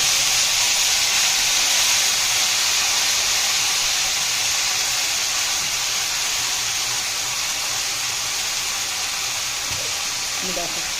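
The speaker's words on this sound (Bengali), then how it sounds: "এবার দিয়ে দেবো তেলের উপরে দিয়ে দিলাম পলতা পাতাগুলো" Pointed gourd (palta) leaves dropped into hot oil give a steady, loud hiss and sizzle that holds evenly throughout, with a few faint clicks near the end.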